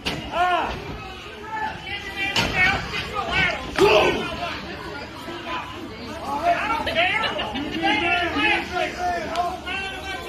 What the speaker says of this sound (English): Watch what the reaction from the crowd is.